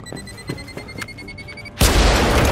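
A grenade goes off in a German-language shooter game, a sudden loud broadband blast at about 1.8 seconds that holds roaring to the end, after quieter ticking clicks and faint tonal game sounds.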